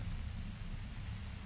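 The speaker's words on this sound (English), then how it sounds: "I guess it's raining now" Rain falls steadily in the video game Uru: Complete Chronicles, a soft, even hiss with a low rumbling undertone, faint and continuous throughout.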